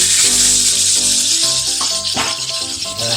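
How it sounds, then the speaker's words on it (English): A big porterhouse steak sears in very hot canola oil in a pan, giving a loud, continuous crackling sizzle up close. Faint tonal background sounds run underneath. "get the oil really, really hot on the pan. And we're going to start searing it on the pan."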